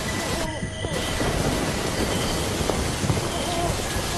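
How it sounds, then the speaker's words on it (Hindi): Heavy rain pours down in a dense, steady hiss, with faint rumbles of thunder mixed in under the downpour. "कुछ समय बाद बारिश बहुत तेज हो गई। आसमान में जोर जोर से बिजली कड़कने लगी।"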